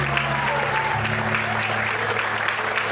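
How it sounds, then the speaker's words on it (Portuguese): Congregation applauding in a church service, steady dense clapping filling the space with sustained tones of music or organ underneath. "Você pode aplaudir e exaltar a Deus por isso."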